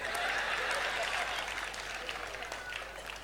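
An audience at a Tamil speech event claps steadily, a dense, sustained applause that gradually eases slightly over a few seconds with no voices on top.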